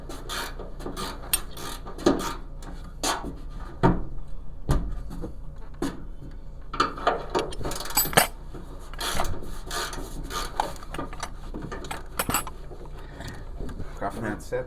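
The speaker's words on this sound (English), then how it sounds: "So all we're gonna do is loosen up the bolts." A ratchet wrench loosens bolts on a Toyota Tundra bracket, with repeated rapid clicking and rasping bursts close by, along with some handling clatter.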